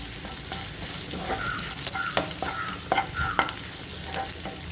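Garlic frying in hot oil in a pan, a steady close sizzle broken by several sharp scraping stir strokes, with no talking.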